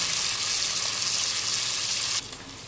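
Onion, green chilli and curry leaves fry in hot oil, a dense bright sizzle held close and steady, then dropping away abruptly near the end.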